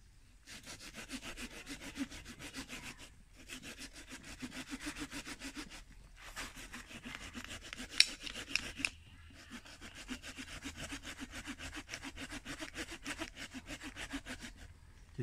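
Repeated back-and-forth strokes of a rusty hand saw cutting through a hard, partly rotten bonsai branch, steady and close with two brief pauses and a few sharp clicks, no talking.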